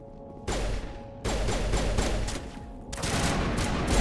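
Pistol fire in a video game tutorial, dense bursts of shots rising and dropping in loud bands over four seconds, with other gunfire mixed in and no speech.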